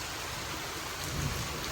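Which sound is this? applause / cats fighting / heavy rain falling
heavy rain falling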